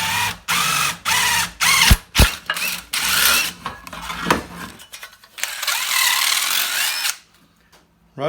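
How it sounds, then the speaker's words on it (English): A power drill bores a hole for a custom build of a Nylint Roamer Ford toy truck, in loud close whirring bursts with brief stops, then a longer sustained run that cuts off abruptly. "So now we've got our hole drilled."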